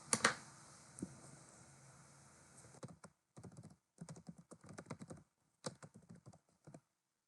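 Close, crisp keystrokes tap on a computer keyboard in short irregular bursts with brief pauses, as a file name is typed in, preceded by a sharper click at the start; no one speaks.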